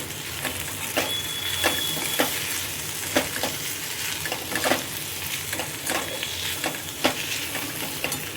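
Dry potato sabzi mixed with spices in a hot pan, with a steady low sizzle and a run of repeated spatula scrapes and taps at an uneven rhythm, close by and with no speech.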